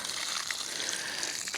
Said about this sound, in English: don't forget to give it a really good water